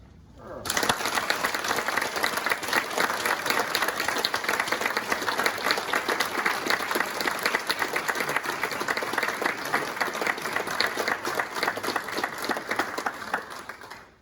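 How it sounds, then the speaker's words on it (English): Sustained applause from a large crowd at a Marine Corps retirement ceremony, loud and dense, starting abruptly and continuing steadily for over ten seconds before fading out. "A round of applause"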